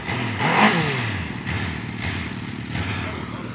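A motorcycle engine revs and idles roughly nearby, with a surging rev near the start and a steady mid-pitched rumble after, mixed with clattering thumps.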